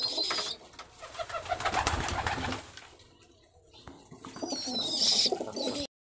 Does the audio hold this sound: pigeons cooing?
yes